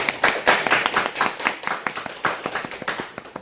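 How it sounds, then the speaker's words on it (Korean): A church congregation claps together to welcome a first-time visitor, a brisk, fairly loud burst of many hands in a room that keeps going at an even pace for a few seconds. "우리 환영에 한번 박수 한번 하도록 하겠습니다"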